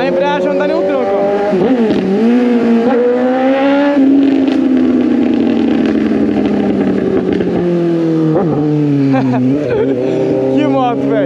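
A Suzuki GSX 750 motorcycle with a loud exhaust pipe revs up through the gears, its engine note climbing and then dipping sharply at each clutchless shift, close and loud, with someone talking over it.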